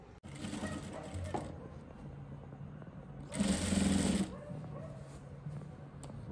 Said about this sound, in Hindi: सिलाई स्टार्ट कर दूँगी